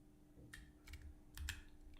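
A computer keyboard is typed on during a live coding session, with a few short, quiet bursts of keystroke clicks spaced unevenly against a soft background hum.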